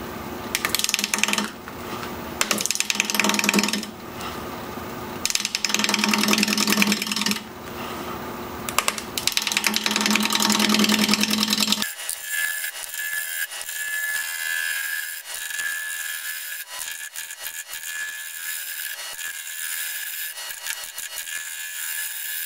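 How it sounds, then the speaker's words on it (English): Wood lathe spinning a natural-edge bowl blank at just over 600 RPM while a 5/8 inch bowl gouge cuts, giving a loud, rough, continuous scraping and shaving noise with bursts that fade into a steadier, lighter whir. "We're gonna be turning at just over 600 RPM, 5/8 inch bowl gouge."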